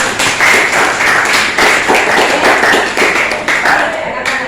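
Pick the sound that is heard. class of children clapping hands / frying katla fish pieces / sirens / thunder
class of children clapping hands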